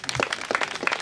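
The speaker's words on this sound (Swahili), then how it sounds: "hebu tupige sana basi." Steady applause from a gathered congregation during a funeral service, a continuous patter of many hands clapping close by for the full second.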